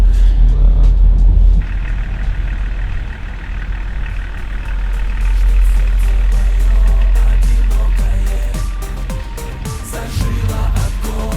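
A BMW E38 or E36 with a newly replaced battery has its engine started in a garage, and a loud low rumble settles into a steady idle, with music playing over it.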